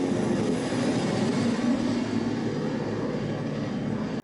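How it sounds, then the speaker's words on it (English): Helicopters flying overhead in a TV drama episode: a steady, loud broadband rotor-and-engine drone with a low rumble, sustained throughout without pause, no voices. "Oh yeah, helicopters are out."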